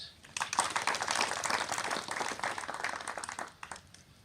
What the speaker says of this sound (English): And I want us to clap the sister for that.